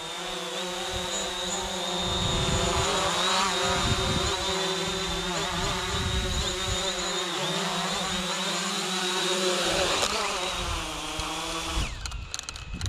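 A Hubsan Zino drone whines with a steady high-pitched rotor buzz that shifts in pitch as it turns and descends, then cuts out abruptly as it lands.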